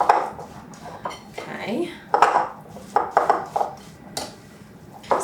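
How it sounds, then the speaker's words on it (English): Spoon scraping and clinking against a bowl while stirring a crushed cookie mixture for no-bake chocolate cherry brandy balls, close, irregular knocks and scrapes, with a brief spoken word. "So we have thoroughly stirred together our cookies and such."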